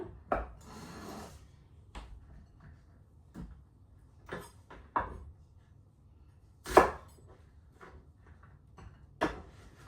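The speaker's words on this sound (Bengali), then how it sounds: "হয়ে গেছে সবজি কোটা" Potato, beans and tomato are chopped for a fish curry in sparse, distinct knife strikes on a board, about ten scattered cuts with quiet gaps between them and no talking.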